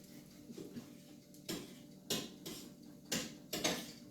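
A spoon stirs white sauce in a pot, giving a run of sharp clinks and scrapes against the metal, spaced irregularly over a quiet kitchen background.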